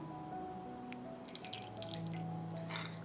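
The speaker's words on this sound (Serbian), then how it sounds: "Istopljen puter sipat ću u činicu." Soft, faint dripping and trickling of melted butter being poured into a bowl, close up, over a low steady hum.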